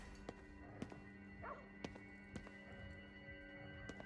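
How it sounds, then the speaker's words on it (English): Distant dog barking in the video game Scars Above, a few short faint yaps scattered over a low steady background hum, with sharp thuds spaced between them. "I heard a dog."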